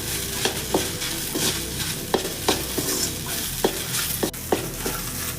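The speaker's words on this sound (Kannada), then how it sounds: "ನಾವು ಸ್ವಲ್ಪ ಜಾಸ್ತಿ ಫ್ರೈ ಮಾಡ್ಕೊತೀವಿ, ಹಾಗಾಗಿ ನೋಡಿ ತಳ ಎಲ್ಲ ಸ್ವಲ್ಪ ಸೀದ್ದಂಗೆ ಆಗ್ಬಿಡುತ್ತೆ" Okra stir-fried in a pan for a chapati side dish, cooked long enough that the bottom starts to scorch. A spatula scrapes the pan in a steady, regular rhythm of sharp strokes over a constant sizzle, close and clear, with no voices.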